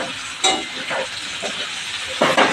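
Lima beans sautéing in a pan on a gas stove, a steady hiss broken by several brief louder bursts of sizzling as they are stirred, nearby and with no speech.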